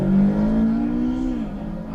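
A Ferrari 458 Challenge with a 4.4-litre engine rumbles at Monza during a Trofeo Pirelli race. It holds a loud, steady low drone with a rising then falling tone over about two seconds.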